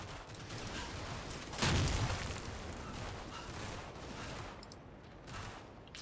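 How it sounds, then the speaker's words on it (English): Video game .30 caliber machine gun firing in long rattling bursts, a dense mid-distance fusillade with one stronger blast, heard without any talk. "And the somewhat less anemic 30 caliber machine gun."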